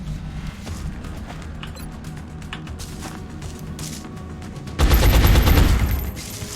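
Gunfire in the video game XCOM Enemy Unknown: scattered sharp shots over a low game backdrop, then a sudden loud, heavy burst of firing that sustains for over a second before fading.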